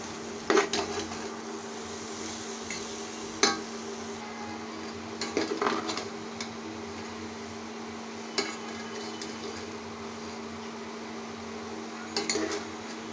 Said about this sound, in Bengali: এখন সবগুলো একসাথে নেড়ে ছেড়ে দেবো